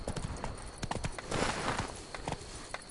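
Roach, a horse in The Witcher 3: Blood and Wine, gallops with rapid, rhythmic hoofbeats pounding close and steady, without speech.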